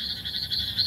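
Frogs croak at night alongside a chorus of crickets, a brief stretch of even, pulsing trills at a moderate distance with no one speaking.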